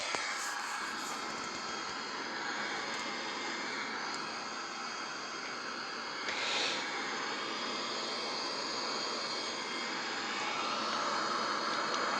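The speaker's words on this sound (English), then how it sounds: "We keep turning the aircraft back into the airport for approach and landing." Jet engines of an airliner in the X-Plane 11 flight simulator, a steady broadband roar and whine holding evenly throughout at moderate level, with a brief swell partway through and no talking.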